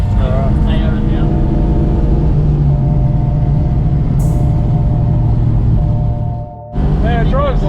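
A Barra-engined drag ute rolls along in gear, its low steady engine drone and rumble sitting under nearby conversation, then briefly cutting out near the end before voices resume.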